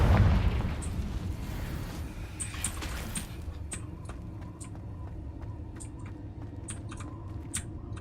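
A fiery Confringo blast spell in the Hogwarts Legacy game opens with a loud, booming burst that fades into a low rumble, followed by a scatter of small, light clicks.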